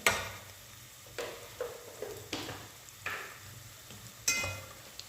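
Cumin seeds sizzle in hot oil with browned garlic, ginger and coriander for aloo baingan, a steady soft fry broken by about five sharp scraping spoon strokes against the pan.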